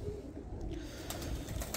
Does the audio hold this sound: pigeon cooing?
yes